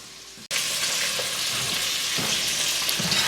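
Chorizo sizzles loudly in a pan, a dense constant frying crackle that starts abruptly and continues with small pops throughout.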